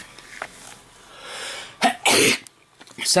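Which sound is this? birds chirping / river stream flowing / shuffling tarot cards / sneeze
sneeze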